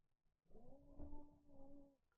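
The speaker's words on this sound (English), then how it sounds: "Leave that kitty alone." An angry cat lets out a drawn-out, wavering yowl lasting about a second and a half, close and fairly quiet, with no talking around it.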